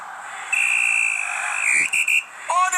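A referee's final whistle in the football video game Kafa Topu (Head Ball) sounds as one long, shrill, steady blast that stutters briefly near its end and is followed by a short rising chirp.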